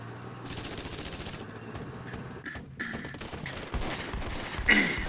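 Dense, rolling bursts of artillery fire in the Flashpoint Campaigns: Red Storm wargame, a steady rumble of overlapping distant impacts that grows heavier toward the end, with no voices.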